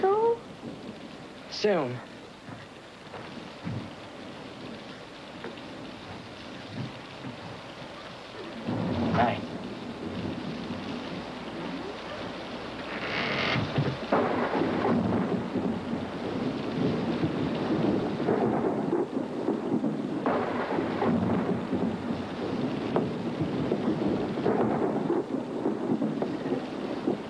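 Cartoon rain falling steadily with rolling thunder, a sharp crack early then a louder, denser downpour building through the second half, with brief speech near the start.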